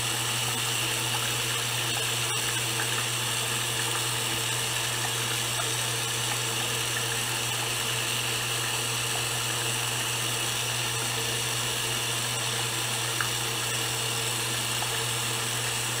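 Tap water running steadily while hands are washed, a constant loud broadband rush with a low hum throughout.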